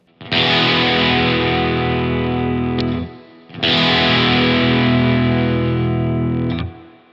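Jazzmaster electric guitar fitted with gold foil pickups, played with gain and distortion: two long, loud sustained strummed chords, each ringing about three seconds before cutting off, with no voices.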